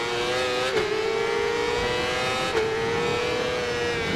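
Racing 600cc stock motorcycle engines in the RIDE 4 video game: a steady, high-revving engine drone with dense harmonics, briefly dipping in pitch twice at gear changes, loud and continuous with no talk.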